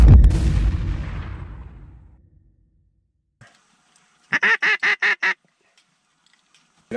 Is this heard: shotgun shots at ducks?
yes